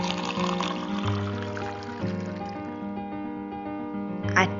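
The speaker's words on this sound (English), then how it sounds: "Add boiling water to a pitcher." Boiling water pours steadily into a pitcher, a continuous splashing fill with a brief clink near the end.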